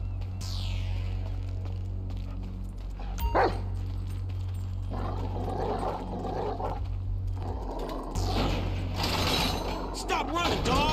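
Chop the dog barks and scampers about in the game GTA V, heard amid a constant low mechanical hum with clattering ratchet-like noises and a few sharp bursts.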